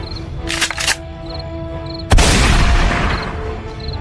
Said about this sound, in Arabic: انا وعدتك ان علي الديب هيموت برصاص بندقية البدري